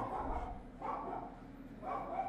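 A dog barks three times, spaced about a second apart, distant and faint within a room, during a casual online gaming chat.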